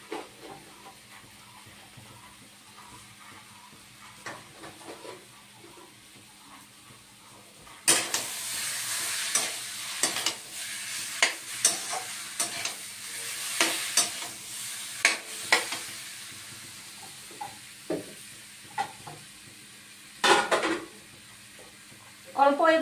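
Taro and rohu fish head curry with spices is stirred and sautéed in a pan, with faint sizzling at first, then louder bursts of frying hiss and scraping spoon strokes in irregular rhythm.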